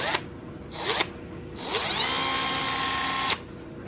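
A homemade 3/8 inch belt sander powered by a Milwaukee M12 tool whines in three bursts, the last and longest spinning up and holding a steady high-pitched hum before stopping.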